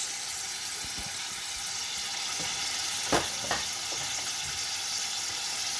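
Tomatoes and ground cloves fry in a pan with a steady, close sizzle, while a spoon stirs through them and scrapes the pan twice in quick succession.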